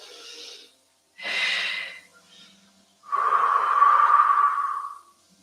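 Slow breaths during a gentle back-mobility exercise session: a short breath, a fuller inhale, then a long, steady, audible exhale lasting about two seconds, close and alone with no talking.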